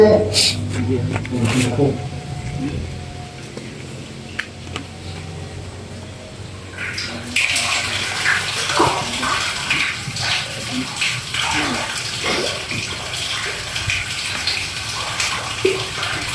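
Tap water gushes and splashes steadily as supply returns to a home, a continuous rushing flow that swells louder partway through, with people chattering and calling out over it.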